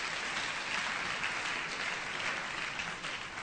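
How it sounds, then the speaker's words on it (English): Audience at a university matriculation lecture applauds, a dense, continuous wash of clapping from a large crowd at an even, sustained volume. "So let's give him a round of applause for that."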